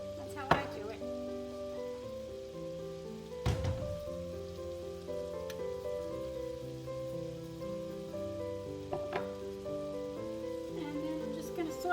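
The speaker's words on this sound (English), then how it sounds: "Saute this for a few minutes until I have a little color." Vegetables sauté in a pot for potato soup, seasoned with salt and pepper, giving a soft, steady sizzle that runs beneath tonal background music, with a couple of sharper knocks from a utensil.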